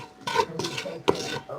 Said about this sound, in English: we're going to mix it all up with your...